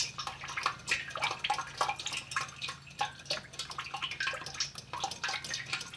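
Transmission fluid from a Jeep Wrangler with a 32RH automatic drips and splashes steadily from the pan into a catch container, a busy patter of close liquid drops over a low hum.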